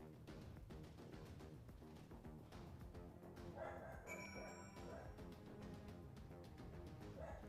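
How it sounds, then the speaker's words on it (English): A dog barks and yips in short repeated bursts mixed into busy Final Fantasy 14 game music and effects, the barks fairly close but partly buried under the dense background. "Hold on, my dog is barking."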